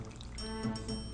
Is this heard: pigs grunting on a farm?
no